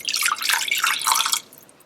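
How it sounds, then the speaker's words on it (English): A cup of water poured into a saucepan holding butter makes a close, splashy trickling pour for about a second and a half, then quickly fades. "And then pour over a cup of water."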